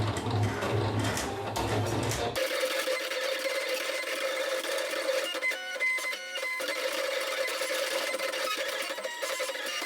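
A vinyl cutting machine slices material for printed shirt merchandise, giving a steady mechanical whir and buzz with a rapid rhythmic chatter of the moving cutter head, continuous and fairly close, no talking.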